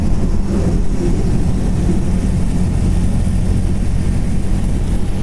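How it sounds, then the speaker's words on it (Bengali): A motorcycle cruising on a highway during a Kolkata to North Bengal ride, ridden standing up, makes a continuous loud engine drone and wind rush with no talking. "একটু দাঁড়িয়ে বাইক চালাচ্ছি"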